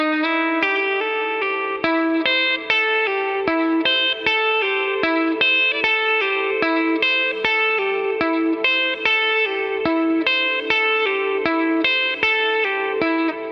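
Electric guitar works slowly through a song lick, one cleanly picked note at a time in an even, deliberate rhythm. The tone is close and bright with a touch of effects, and no one speaks.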